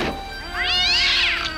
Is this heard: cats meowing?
yes